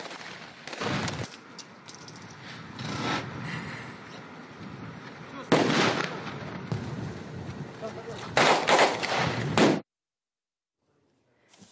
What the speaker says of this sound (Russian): В ходе учений военные отработали навыки стрельбы, маскировки и захвата пленных.